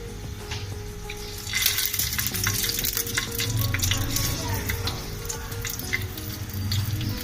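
Coated green chillies shallow-fry in a little oil on a tawa for chaat, giving a steady close sizzle and crackle with occasional stirring scrapes throughout.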